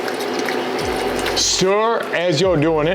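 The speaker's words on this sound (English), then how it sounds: "I'm gonna be using a Sam Adams Oktoberfest. Now slowly pour that in here." Sam Adams Oktoberfest beer is poured slowly into a pot of chicken and andouille gumbo, making a steady rushing, fizzing splash for over a second before a person starts talking.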